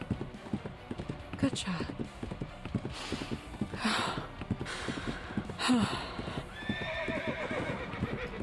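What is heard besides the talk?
horse galloping and neighing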